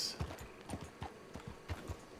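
Horse hooves from Red Dead Redemption 2 clip-clop in a steady rhythm of soft, dull thuds, with no talking.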